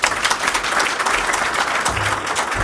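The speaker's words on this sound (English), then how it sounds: "It's probably better to wait till after the presentation to applaud" An audience welcomes a speaker at a presentation with loud, dense applause, steady and sustained throughout, filling the room with no voices over it.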